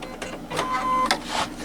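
A self-threading embroidery machine starts stitching on a plush Easter bunny, giving off a close, steady mechanical whir with rapid repeated clicks and a couple of short beep-like tones, loud and without talk.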